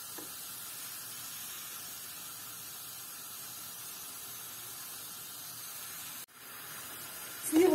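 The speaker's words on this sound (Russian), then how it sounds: "Слива дала сок. Вот он уже закипает у нас." A low, steady hiss and gentle bubbling of plum juice simmering in a pot over low heat, fairly quiet and continuous, with a brief dip near the end.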